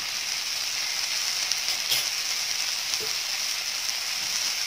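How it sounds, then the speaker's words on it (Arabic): Tomato sauce sautéing in a pot with ghee, meat, potatoes and peas, giving a steady, close sizzle with a faint clink or two of stirring. "هنزلها في ارضيه الحله معايا كده عشان تتشوح حلوه قوي وتشرب من السمنه واللحمه والبطاطس والبسله اللي معايا ديت"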